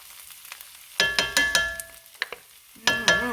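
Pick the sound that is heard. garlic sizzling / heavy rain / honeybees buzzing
garlic sizzling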